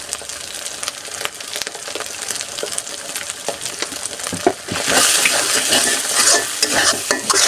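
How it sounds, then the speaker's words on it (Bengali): Spices with bay leaf stirred and frying in a pan for a braised chicken curry, steady scraping and sizzling that swells into a louder hiss near the end, with no talking. "তেজপাতা দিয়ে একটু নাড়াচাড়া করে নুন দিচ্ছি,"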